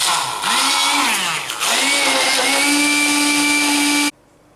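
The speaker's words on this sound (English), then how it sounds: "I'm just going to roughly blend this with a stick blender to get it to a coarse pate" Stick blender roughly whirring through smoked mackerel pate, a loud close steady motor drone whose pitch dips briefly as it bites into the mix, then cutting off abruptly near the end.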